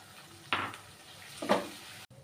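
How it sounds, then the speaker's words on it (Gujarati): Chopped onions hit hot oil in a pan while cooking a desi chana and potato curry, giving two bursts of sizzling and stirring a second apart over a quiet, steady background hiss. "ત્યારબાદ ડુંગળી એડ કરીશું"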